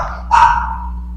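A single sharp dog bark, fairly close, standing out over a steady low background hum.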